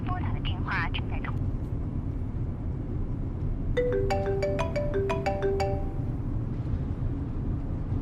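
A telephone ringback tone sounds while a call connects: a quick run of repeated electronic beeps mid-way, with a short voice-like prompt at the start, all over a steady low background rumble.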